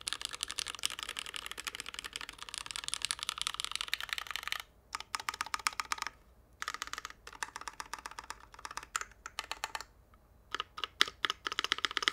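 Typing on a mechanical keyboard with lubed Cherry MX Black switches in a custom aftermarket case, rapid close clacking keystrokes in steady bursts with short pauses between runs, no talking.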